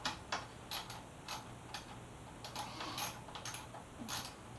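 A 10mm socket ratchet loosening the mirror bolts on a crashed Yamaha FZ6R sport touring motorcycle, giving quiet, close clicking and ticking strokes in irregular bursts over a low background hum.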